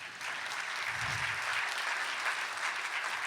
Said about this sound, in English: a round of applause for all educators